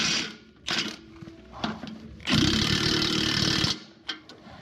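A Milwaukee power tool driving a bolt during a potato lifter repair, with short mechanical bursts followed by one sustained loud whirring run of over a second, then a few brief clicks.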